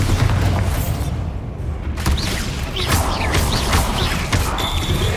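A Bombarda exploding spell in Hogwarts Legacy goes off as a heavy booming blast with crashing debris, a brief dip, then more rumbling impacts and whooshing effects, loud and continuous throughout.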